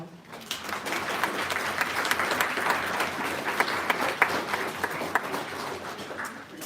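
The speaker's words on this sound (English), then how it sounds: "We want to give them all a round of applause." Sustained audience applause at a nonprofit's annual meeting, dense steady clapping with a few sharper claps standing out, moderately loud and continuing for several seconds without speech.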